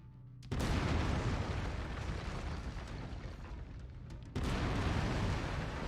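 Autocannon fire from a mech in MechWarrior 5: Mercenaries, a loud sustained roaring barrage that stops briefly and then resumes just as heavily, with no talking.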